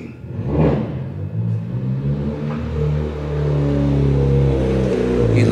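A car engine revs loudly to about 6,000 RPM while parking in first gear, holding a high, droning pitch, rising and settling with a deep rumble underneath.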